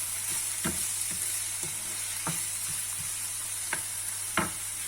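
Onions sauté in a pan for a tuna and crème fraîche pasta, a constant close sizzle punctuated by repeated sharp taps and scrapes of a spoon against the pan, no speech.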